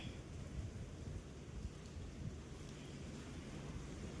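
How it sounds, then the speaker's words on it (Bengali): Steady rain falls outside during a long afternoon downpour, a dense, continuous wash of patter with some wind noise and low rumble throughout, no talking. "আর বাইরে পড়ছে বৃষ্টি, তোমাদের দেখাচ্ছি,"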